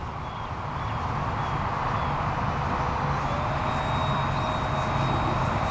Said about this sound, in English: Do a flyby right here.